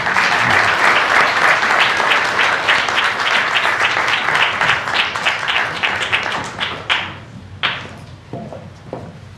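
An indoor audience at an awards ceremony and reading applauds to welcome a speaker, dense steady clapping that thins out into a few scattered final claps.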